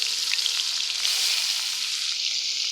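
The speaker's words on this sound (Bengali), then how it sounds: "এখন রান্না করতেছি লাকড়ি চুলায়" Food sizzles and fries steadily in a pan on a wood-fired clay stove, a close, continuous hiss with no voices.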